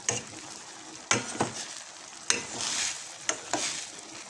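Bottle gourd (upo) sautéing in a pan gives a soft, steady sizzle, broken by several sharp scrapes and clatters of a spatula stirring against the pan, close by.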